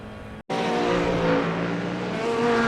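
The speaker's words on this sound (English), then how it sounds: "You can hear his tires lose grip twice before he hits the wall." A loud racing engine roars without a break in a sim racing game at Bathurst, with tires squealing twice as they lose grip before a wall hit, after a brief moment of silence near the start.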